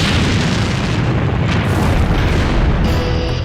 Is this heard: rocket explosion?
yes